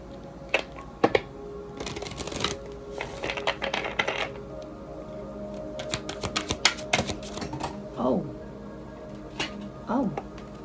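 Crystal cards are shuffled on a lap in bursts of crisp clicking and fluttering, near and moderately loud, while a voice talks intermittently between them.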